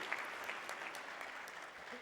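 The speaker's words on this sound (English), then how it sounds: "Let's give them another round of applause" An audience at a Black History celebration in Tampa claps for a performing act, sustained, even applause at moderate distance with a few brighter claps standing out.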